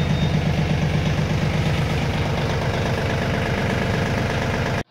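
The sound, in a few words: Mahindra Ojas 2124 tractor engine idling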